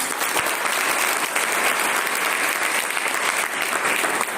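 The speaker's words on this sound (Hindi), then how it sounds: "एक बार जबरदस्त तालियां हो सकती है।" Strong audience applause at a motivational education seminar, a dense, loud and even roar of many clapping hands that holds steady from start to finish with no talk over it.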